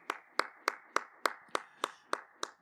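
A congregation at a Spanish-language church service claps in a steady unison rhythm, nine crisp, evenly spaced claps about a third of a second apart.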